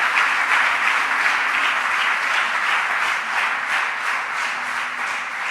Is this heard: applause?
yes